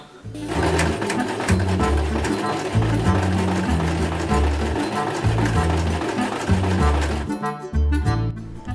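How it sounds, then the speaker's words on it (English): Sewing machine stitching pockets onto a jacket made from IKEA fabric, a fast, steady mechanical chatter running close and loud for about seven seconds before slowing and stopping. "So let's just keep the pockets here and sew them on."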